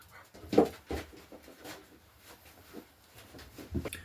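A dog gives a few soft huffs and faint whimpers at close range, quiet and intermittent in a calm room.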